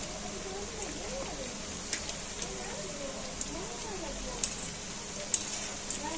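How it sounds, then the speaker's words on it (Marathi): Chakli fry in hot oil with a steady, close, even sizzle and hiss. Occasional small pops and crackles break through, and someone speaks quietly over the sound. "चकली तळायला भरपूर वेळ लागतो"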